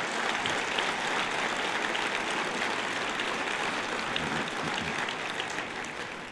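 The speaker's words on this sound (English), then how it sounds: "let's give a big round of applause to Ray Rogers." An audience at the Montana Jobs Summit gives a sustained round of applause, with dense, steady clapping that holds at full strength and only eases slightly at the end.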